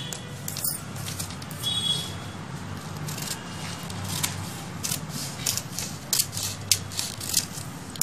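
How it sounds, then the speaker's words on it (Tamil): Scissors snipping through a piece of embroidered fabric to cut it in half, close-up rhythmic cutting and rubbing sounds with small mechanical clicks, no talking. "இப்போ இதை நம்ம பாதியாக கட் பண்ணிட போகிறோம்"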